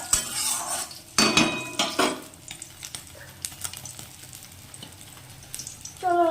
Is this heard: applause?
no